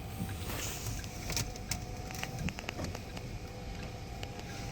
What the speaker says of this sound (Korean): 뒤에 리어 전동 커튼인데 작동 잘 되나 한번 볼까요?